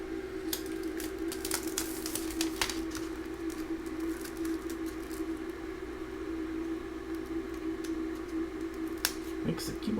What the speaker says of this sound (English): Makes the keyboard sound a little different.